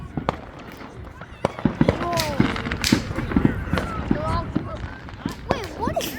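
Backyard fireworks pop and crackle in sharp bursts, with one big firework exploding loudly among smaller reports while people chat and react throughout.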